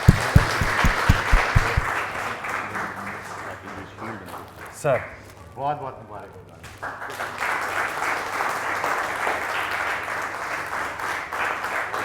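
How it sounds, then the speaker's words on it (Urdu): Audience applause at a TV award tribute show, scattered loud claps at first, then a continuous wash of clapping beneath someone speaking in the foreground. "تالیاں ہونی چاہیے بھائی"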